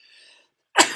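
A single short, loud sneeze bursts out close by after a brief moment of near silence.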